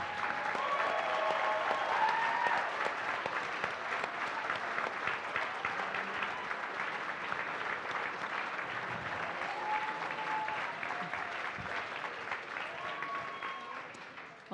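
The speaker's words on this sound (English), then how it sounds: "I want everyone to give you a round of applause" Sustained audience applause at a legal aid organization's gala celebration, steady and full for well over ten seconds as a senior managing attorney stands, then tapering slightly at the end.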